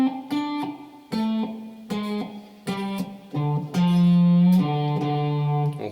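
An electric guitar plays a riff slowly, with distorted, buzzy notes picked one at a time in a halting rhythm, each note ringing briefly before the next, ending on longer sustained low notes; no talking.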